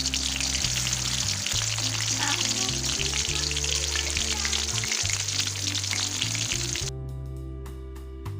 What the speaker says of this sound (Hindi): दोबारा फ्राई कर रही हूँ।